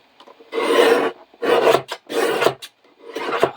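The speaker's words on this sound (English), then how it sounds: "I think this guillotine is getting a little bit blunt" A slightly blunt paper guillotine slices through card in four rough rasping strokes, each a close scraping burst separated by short pauses.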